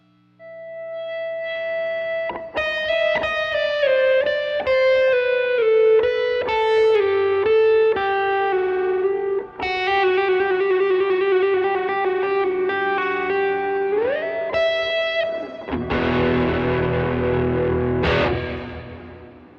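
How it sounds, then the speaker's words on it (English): Heavily distorted electric guitar plays sustained, bending notes with a buzzy, saturated tone, ending in a harsher, noisy chord burst. "there's a lot of distortion on the guitar"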